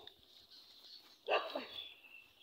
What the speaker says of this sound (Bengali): গরু ডাকে, কুকুরও ডাকে, দেখছো?